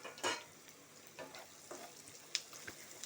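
Half-boiled eggs dropped into hot oil with fried onions, faint sizzling under sporadic spoon scrapes and taps, a handful of brief bursts spread across the moment.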